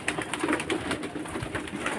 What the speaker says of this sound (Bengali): কবুতর একটা সুন্দর প্রাণী শান্তির প্রদীপ